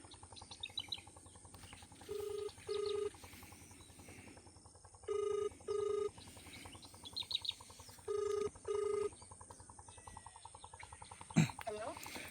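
A phone rings on the line in paired beeps, three double rings spaced evenly, fairly faint, with birds chirping softly around it.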